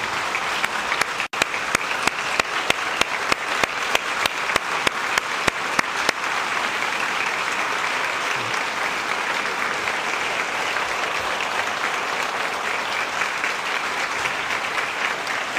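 An audience in a legislative chamber applauds during a State of the State address, a broad, steady wash of many hands clapping, with a few sharp nearby claps standing out early before the sound settles into an even roar.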